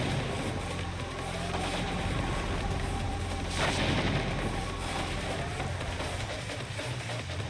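Continuous gunfire and booming blasts from the video game S.T.A.L.K.E.R.: Clear Sky over a dense, roaring background, with one louder burst midway.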